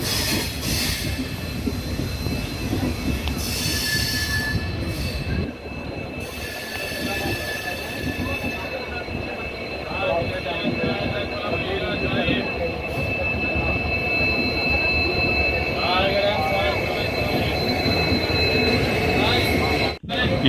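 A Patna Kota Express passenger train pulls out of Varanasi and gathers speed, a steady loud rumble and clatter of wheels on rails with high squealing tones throughout, a voice speaking over it.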